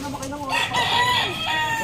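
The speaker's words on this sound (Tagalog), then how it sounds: "may mga manok dito" Hens cluck amid a busy barnyard, with a rooster's crow rising partway through; the birds sound fairly close and steady.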